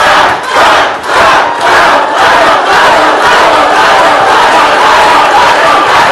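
A large crowd cheers and shouts at the Moms for Liberty convention, loud and continuous, with a roar of voices and whoops that swells early on and then holds at full volume.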